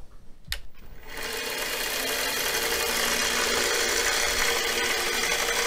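A Harbor Freight 1x30 belt grinder converted to DC variable speed starts up after a sharp click and settles into a loud, steady whirring hum that runs continuously up close.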